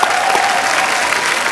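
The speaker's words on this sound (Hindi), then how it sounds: "इसके लिए भी जोरदार तालियां।" Loud applause from a studio audience at a TV comedy talk show, dense steady clapping throughout, close and uninterrupted.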